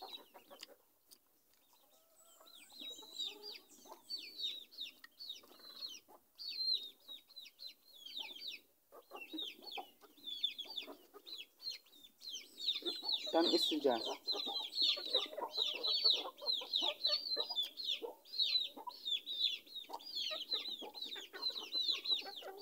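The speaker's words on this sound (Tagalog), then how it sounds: "Pasensya na din mo sa among mga manok diri sa bod guys kay perting banhaan nila" Backyard chickens cluck and call repeatedly in a dense, fairly faint chorus, with a rooster-like burst in the middle, while a person speaks briefly now and then.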